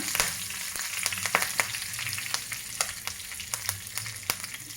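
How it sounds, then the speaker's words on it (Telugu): Dried red chillies and curry leaves sizzle and crackle in hot oil for a garlic mango pickle tempering, with quick sharp pops over a soft steady fry. "ఒక రెండు ఎండుమిరపకాయలు అట్లా తుంచి వేస్తాను కరివేపాకు వేస్తున్నా"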